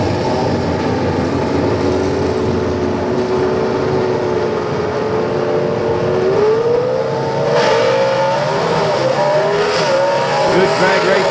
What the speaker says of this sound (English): Good drag race right here.